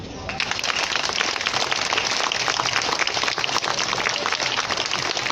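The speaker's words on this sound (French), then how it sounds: "saluer comme il se doit par une salve d'applaudissements vos élus et les bénévoles" Sustained, dense applause from a large audience honoring elected officials and volunteers, loud and steady throughout with no pauses.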